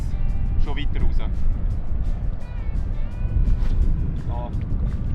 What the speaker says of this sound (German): Der Wind packt die Schnur direkt.